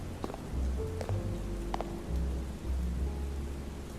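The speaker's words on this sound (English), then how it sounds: "Why is it always raining?" Steady rain falls in a video game, a soft constant patter with a low rumble beneath and a few faint tonal blips.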